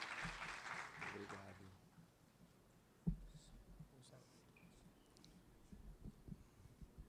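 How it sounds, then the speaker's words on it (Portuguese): An audience at a spiritist lecture on integral healing applauds as Dr. Sérgio is welcomed; fairly dense clapping for about a second and a half quickly fades into a quiet room, with a single sharp thump soon after. "Uma salva de palmas, então, para o Dr. Sérgio."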